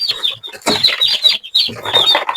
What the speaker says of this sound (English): These are our chicks. Very active. They're already pecking.